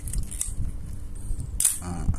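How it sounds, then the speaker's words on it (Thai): A Pentax Spotmatic film camera fitted with a Takumar 55mm f/1.8 lens has its shutter released, giving a couple of sharp mechanical clicks and snaps against a low background hum, close and fairly quiet. "เวลากดชัตเตอร์หนึ่งครั้งเนี่ย ตัวนี้มันจะดีดลงแสดงว่าครั้งต่อไปเราขึ้นฟิล์ม"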